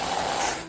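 Reddi Whip whipped cream can spraying in one steady hissing burst lasting under a second, close and fairly loud, tapering off at the end.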